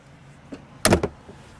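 A Newmar Super C Supreme Aire motorhome door swings shut with one firm latching thud, followed by a quick rattling settle, preceded by a faint soft knock; no talking.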